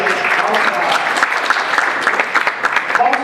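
An audience at a conference applauds after a talk, with a dense, steady patter of many hands clapping close by throughout.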